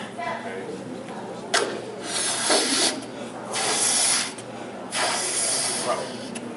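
Air hisses and rubber squeaks and rubs in bursts as a small balloon is blown up large during a magic trick at a Halloween senior health fair, close and fairly loud, with speech mixed in.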